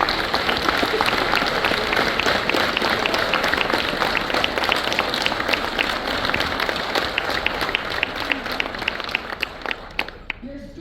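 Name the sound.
audience applause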